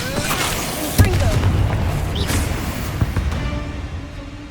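Confringo spell blasts in the video game Hogwarts Legacy go off as a string of booming explosions over a continuous rumbling background, with a sharp hit near the start and another a couple of seconds later.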